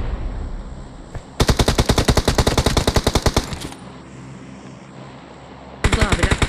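Automatic weapon fire in the mobile battle-royale game PUBG Mobile, loud rapid bursts of shots up close, one long burst followed by a pause and a second burst starting at the end, no talking.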